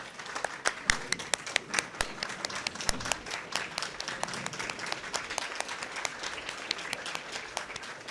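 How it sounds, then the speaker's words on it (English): An audience at a college innovation centre inauguration breaks into sustained applause, dense clapping from many hands continuing evenly for several seconds without talk. "Gautam Da deserves a very big round of applause and standing ovation"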